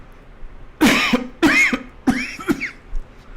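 Three harsh coughs in quick succession, close and loud, with brief pauses between, followed by a few fainter throaty sounds.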